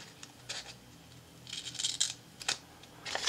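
Scissors snip through dark decorative tape in a planner, a few faint, crisp close cuts and slicing sounds spread out in a quiet room.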